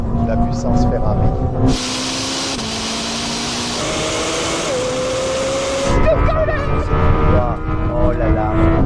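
A Ferrari SF90 accelerates hard in a drag race against a Lamborghini Temerario, its engine note climbing steadily through stepped gear changes over a loud rush of wind, with excited voices heard near the start and end.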